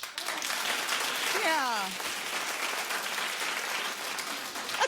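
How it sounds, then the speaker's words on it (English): A television talk-show studio audience claps in a dense sustained wash of applause, while a voice briefly calls out over it. "Clap if that wasn't your song."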